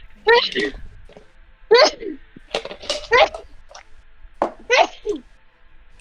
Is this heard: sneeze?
yes